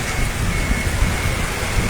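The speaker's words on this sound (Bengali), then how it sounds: "আমি দেখানোর চেষ্টা করছি এই যে প্রচণ্ড বাতাস," A storm in Sylhet city: heavy rain and strong wind form a dense, steady roar that fills the whole stretch at close range, with no voices.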